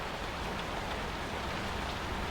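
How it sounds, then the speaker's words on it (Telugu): Heavy rain falls in a steady, dense hiss, an unbroken wash of drops on surfaces, even and continuous with no voices. "వర్షం ఆగేటట్టు కనిపించట్లేదు"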